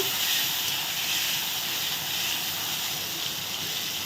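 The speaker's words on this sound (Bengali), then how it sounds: "আর আলুগুলো দিয়ে দিলাম এখন আলুগুলো ভালো করে ভেজে নেব" Potato pieces coated in turmeric and salt fry in hot oil in a wok, a loud, steady sizzling hiss that stays even throughout, close up, with no voices.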